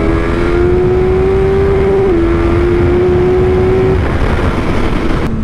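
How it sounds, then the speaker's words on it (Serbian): A Suzuki GSX-S 1000 M4 (2024) naked motorcycle with a 1000cc engine drones loudly and continuously as it accelerates, its pitch climbing, dipping briefly at a gear change and climbing again before easing off. "Stari gromoglasni zvuk motora, čista snaga i ogromno ubrzanje."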